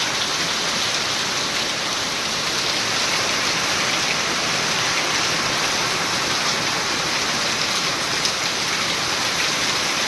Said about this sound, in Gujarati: જોરદાર વરસાદ આવે